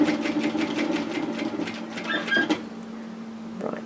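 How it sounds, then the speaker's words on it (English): A sewing machine stitching a cotton apron dress, a fast, even run of close needle beats that stops halfway through, leaving a faint hum and a soft click. "So continue stitching up until you get to that pivot point."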